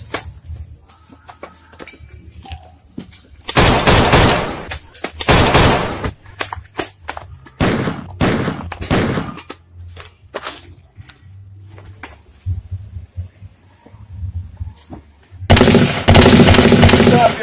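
Gunfire in a Jamaican movie shootout comes as loud bursts of rapid automatic shots and scattered single cracks with quieter gaps between, fairly close and dominating the scene.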